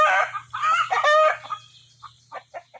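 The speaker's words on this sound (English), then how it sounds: "I hear a red hen clucking at me." A red hen clucks on a farm in a handful of short, separate clucks that grow quieter and sparser toward the end, over a faint low hum, with no talking.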